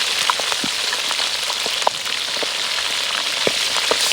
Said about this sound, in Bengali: এই যে এই পাশে হচ্ছে ভাজা হচ্ছে